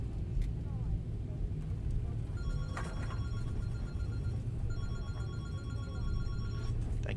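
Telephone bell ringing in a Boeing 737 cockpit during a flight simulator session at Dublin Airport, two clear repeated trill bursts over steady low engine and cabin rumble.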